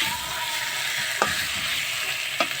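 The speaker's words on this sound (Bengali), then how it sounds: "আর আলু দিয়ে কষিয়ে নেব।" Potatoes fry with spices in a pan under a constant close sizzle, with a couple of brief scraping stirs cutting through.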